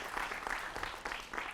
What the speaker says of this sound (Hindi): जोरदार तालियों से उनका भी स्वागत।